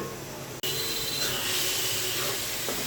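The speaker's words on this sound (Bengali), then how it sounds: "এবার আমি ডালগুলো দিয়ে দিচ্ছি" Lentils go into hot oil in a pan where rui fish has already been fried, setting off a sudden loud, broad sizzle that holds steady and close for the rest of the moment.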